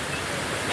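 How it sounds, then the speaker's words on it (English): A waterfall pours in a steady, dense rush of white noise, close and loud, with no breaks or other sounds over it. "So we came to this part of the waterfall in the end."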